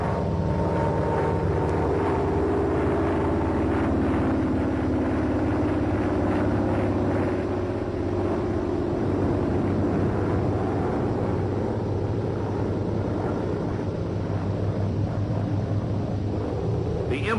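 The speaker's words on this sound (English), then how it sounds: "The Corsair is not restricted as to acrobatic maneuvers, such as the loop, which may be entered at a speed of about 210 knots," Chance Vought F4U Corsair engine roaring steadily through acrobatic maneuvers such as a loop, a loud continuous propeller drone with slowly shifting pitch throughout.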